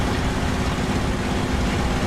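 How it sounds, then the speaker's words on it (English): A damaged, failing aircraft engine in the DCS flight simulator drones as a loud, dense, continuous rumble that stays steady without any break, with no talking. "Engine's dying."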